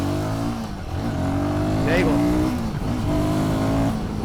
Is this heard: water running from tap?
no